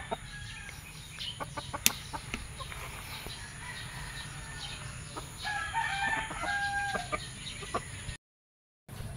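Farm chickens cluck in scattered bursts at a low, distant level while a rooster crows. A steady background hum runs underneath the flock throughout.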